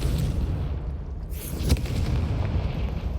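A Confringo explosive spell goes off in the Hogwarts Legacy video game, giving one sharp burst near the middle over a dense, booming game soundscape.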